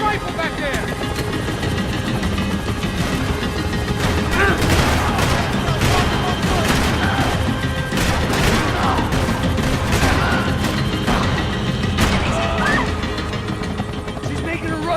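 Rapid gunfire and crashes ring out during a firefight in the video game Max Payne 3, forming a dense, loud, continuous barrage with engine-like rumble beneath it and people shouting over the top.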